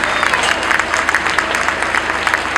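An audience at a tribute event applauds the artist Giovannino Giordo with a brief burst of dense, close clapping that stays loud throughout.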